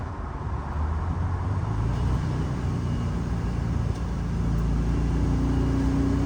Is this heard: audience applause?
no